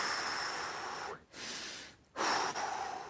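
A person breathes slowly and audibly while holding a hamstring stretch in a full-body stretching session, with two drawn breaths separated by brief pauses, close and fairly quiet.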